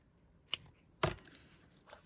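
Scissors snip through quilting fabric for a 3-D tulip block embellishment, with two or three crisp, close cuts and short quiet gaps between them.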